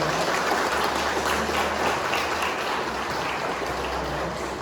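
Inside a church, a congregation applauds a married couple celebrating their anniversary, producing a steady, moderately loud wash of clapping that continues evenly throughout without any talking over it.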